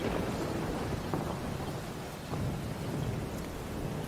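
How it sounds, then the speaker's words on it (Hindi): Steady heavy rain pours outside in a continuous wash of noise, with faint low rumbles underneath. "बाहर इतनी जोरों से बारिश हो रही है"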